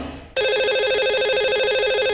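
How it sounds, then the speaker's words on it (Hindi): A telephone rings for a call to a lucky caller on a radio show. The warbling ring tone cuts in abruptly after a short lead-in and continues loud and steady, with no talk. "लगाते हैं इन्हें कॉल और करते हैं इनसे बात"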